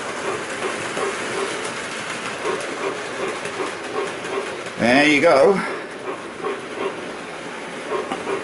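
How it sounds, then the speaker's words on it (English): An OO gauge model train runs along its track with a steady low rumble, joined midway by a brief louder burst of clatter before settling back; a person speaks briefly nearby. "It makes me nervous because the train will sometimes go too fast"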